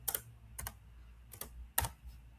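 Keystrokes on a computer keyboard typing a single letter, four or five sharp separate clicks spaced irregularly over a low steady hum, close and fairly quiet with no voices.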